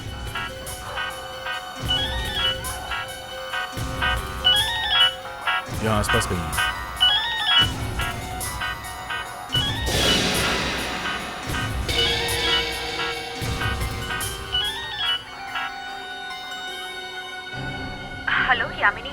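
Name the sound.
phone ringtone ringing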